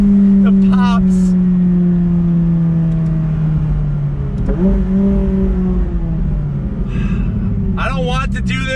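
A McLaren 570S Spider's exhaust burbles and drones under throttle, with crackles and pops standing out near the end over a steady engine note; talk runs over it.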